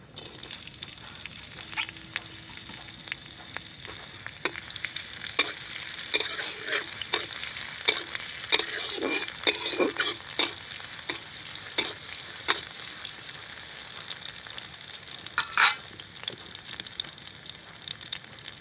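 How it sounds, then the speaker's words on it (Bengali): Whole cumin seeds and chopped green chillies sizzle steadily in hot oil, with repeated sharp clicks and scrapes of stirring spaced through the continuous frying hiss, close and moderately loud. "লঙ্কাটা ভালো করে ভেজে নিয়েছি।"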